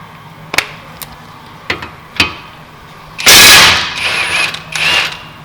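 Tool working the 21mm caliper bracket bolts on a 2018 Volkswagen Atlas front brake: a few sharp metallic clicks, then loud rattling bursts of an impact-type wrench, close up.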